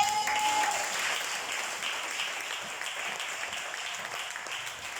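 A church congregation breaks into applause, a dense, sustained clapping that starts strong and gradually thins out over several seconds.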